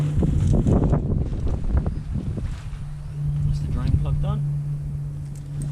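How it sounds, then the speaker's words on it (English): Gusty outdoor wind buffets the microphone in low rumbling surges, with a steady hum underneath and someone talking near the start. "Man, it's windy today."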